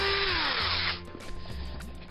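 Power drill with a 1.7mm bit boring into a model locomotive chassis block, a high motor whine that drops in pitch as the bit bites, then a lower grinding hum.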